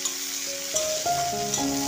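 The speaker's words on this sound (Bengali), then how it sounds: "এরপরে 5 ফোড়ন দিয়ে দিচ্ছি আর দুটো পেঁয়াজকে এভাবে কুচিয়ে আমি দিয়ে দিচ্ছি" Chopped onions added to about three spoons of leftover fish-frying oil with five-spice seeds, crackling and sizzling steadily close up as they are stirred, with faint tonal hum behind.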